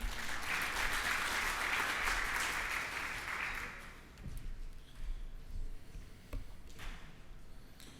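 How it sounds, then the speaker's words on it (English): Applause from a conference audience at a technical session, dense clapping for around four seconds that thins into a few scattered claps and small room noises. "Please, a round of applause for Jack."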